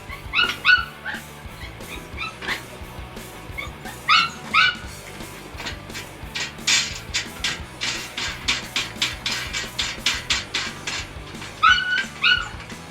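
A dog barks and yips excitedly in a series of sharp, closely spaced bursts, loud and near, with an irregular rhythm building to a rapid run of repeated barks near the end, inside or beside a Grey Wolf 18RR travel trailer.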